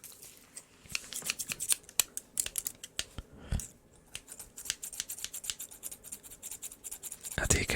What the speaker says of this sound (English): How do you guys like scissor sounds?